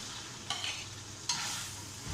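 Chickpeas are tipped into a pan of softened frying potatoes, giving a steady close sizzle with two short bursts of spoon scraping and stirring.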